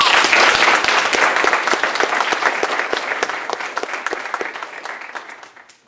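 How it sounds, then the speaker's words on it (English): A seated audience claps for a discussion panel, a dense wash of applause that starts loud and slowly tapers off over about six seconds. "Please give our panel a round of applause."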